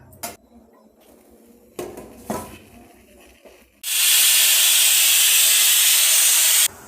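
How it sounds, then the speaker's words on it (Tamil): A pressure cooker of veg pulao rice on a stove lets out a loud, continuous hissing whistle lasting about three seconds, after a few soft kitchen clatters and bumps. "பாருங்கள், ஒரு விசில் வந்துருச்சு."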